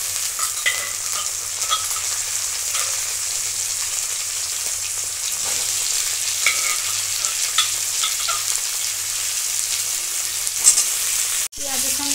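Boiled potatoes frying with onions in a pan make a loud, even crackling sizzle that runs throughout, with faint stirring taps and a sharp knock near the end, close by and without speech.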